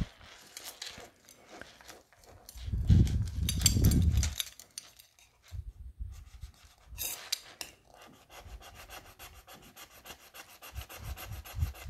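A metal tester scratches across a curved jewelry pendant, giving short, close rubbing and rasping strokes with quiet pauses between them.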